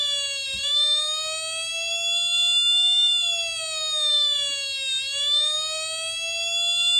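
An electronic police siren circuit, battery-powered, wails continuously, its steady tone slowly sliding up and down in pitch, loud and close.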